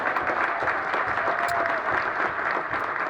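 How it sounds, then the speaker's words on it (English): A gym crowd at a girls basketball game applauds in a steady, dense wash of clapping that carries on evenly throughout with no break. "Please, ladies and gentlemen, a huge round of applause for Emily and her family"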